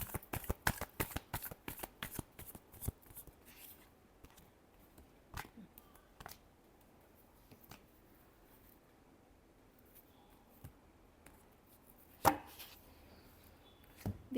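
A deck of cards is riffled and shuffled for a tarot reading, with a fast run of crisp flicks at first that thin into scattered taps and one louder snap near the end, close and quiet with no talking.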